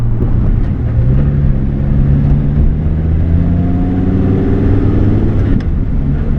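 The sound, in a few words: car engine driving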